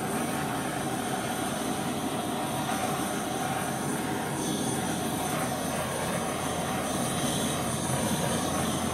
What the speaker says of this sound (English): And an aeroplane.